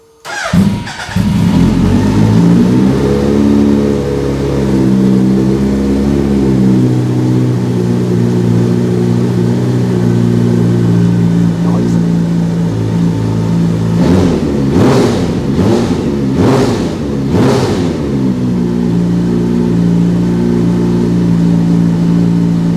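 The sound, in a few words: Suzuki Hayabusa motorcycle engine revving during a dyno run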